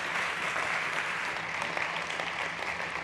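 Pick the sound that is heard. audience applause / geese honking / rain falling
audience applause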